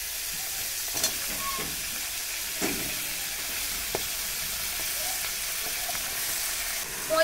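Malabar spinach hitting a hot pan with fried crab, a loud steady sizzle with a few stirring scrapes and clinks, close up and without talk.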